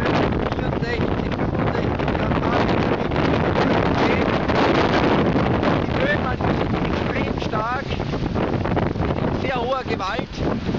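Strong wind of approaching Hurricane Ike roars steadily across the microphone, a loud unbroken rushing gust noise with someone speaking German over it throughout.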